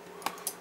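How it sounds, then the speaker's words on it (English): IO relays on a breadboarded Raspberry Pi relay matrix for ham radio shack control, two sharp, faint clicks spaced about a fifth of a second apart in a quiet room. "You can hear some IO relays clicking in the background."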